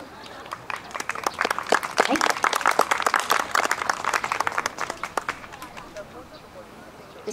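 Audience clapping in time with a yosakoi dance performance at an outdoor festival in the Ikeda castle ruins park, a steady rhythmic patter of many hands, fairly close, with shouts and voices mixed in.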